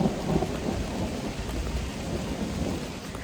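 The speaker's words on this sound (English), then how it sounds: "We've got rain." Steady heavy rain with rumbling thunder surrounds a hiking trail, a dense continuous wash of sound with low rolling booms and no voices.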